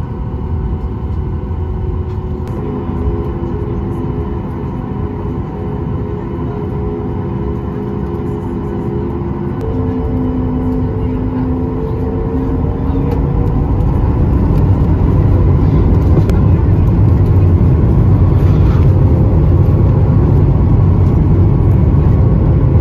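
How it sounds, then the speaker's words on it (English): United Boeing 737 MAX 8 jet rumbling steadily from inside the cabin while taxiing toward runway 22 right at Newark for departure, a continuous low engine drone that grows slightly louder toward the end. "This afternoon, we're off to runway 22 right for departure"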